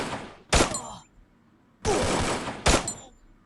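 Two loud bursts of XM8 and AK gunfire from the Free Fire mobile shooter, each a dense rapid volley cracking out close and sharp, separated by a quiet gap with faint background noise.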